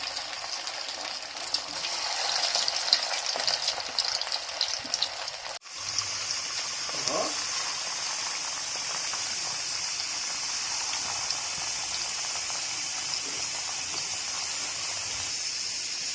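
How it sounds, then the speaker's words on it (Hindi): Chicken manchurian balls deep-fry in hot oil over a medium gas flame, giving a dense, steady sizzling hiss with a brief break partway through before the bubbling crackle resumes evenly. The sound is close and continuous, with no talking. "अब हमें बॉल्स को डीप फ्राई करना है।"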